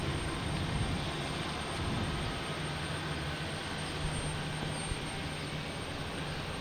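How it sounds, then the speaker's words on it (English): A Delta Airlines Airbus A220 jet takes off at Boston Logan, heard as a steady, moderately distant broadband engine roar with no talk over it. "Next takeoff, we have Delta Airlines heading to Austin."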